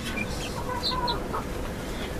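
Chickens cluck and chatter close by while young chicks are moved into the poultry house, a continuous busy stream of short calls over a steady barnyard rumble.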